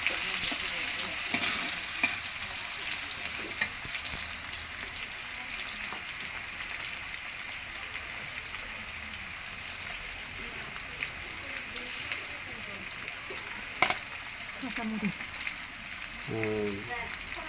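Onions frying in oil for a hilsa fish curry with cauliflower: a steady hissing sizzle like light rain, fairly quiet and unbroken, with an occasional clink of the utensil and a brief voice near the end.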